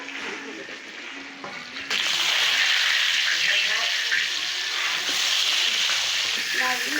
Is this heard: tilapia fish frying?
yes